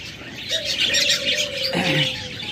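Pet birds at a shop, budgerigars and doves among them, chirp and chatter steadily while a long cooing note runs beneath, close and fairly loud with no talk.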